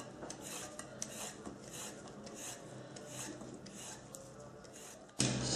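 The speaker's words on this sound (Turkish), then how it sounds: "Soğan kavrulurken biz de kabaklarımızı soyarak devam ediyoruz." Steady raspy scraping of a peeler stripping zucchini skin, continuous and close, with a sharper knock near the end.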